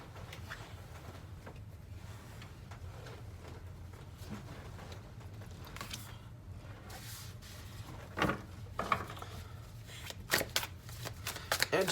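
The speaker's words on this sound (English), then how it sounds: "Let me just grab those cards that fell." Fallen tarot cards are gathered up and handled, giving soft scattered shuffling and light tapping, quiet at first and then a few sharper card clacks toward the end.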